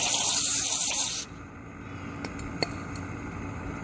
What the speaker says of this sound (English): you don't want to forget to spray inside here too, for where this is where it bolts into the intake